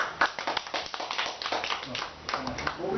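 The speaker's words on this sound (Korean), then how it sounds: "박수" Brief clapping from a small group at a self-help meeting of people living with schizophrenia and mood disorders, a few scattered claps mixed with voices talking over them.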